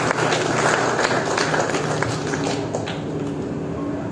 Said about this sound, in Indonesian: Sekali lagi tepuk tangan untuk Profil Desa Ratu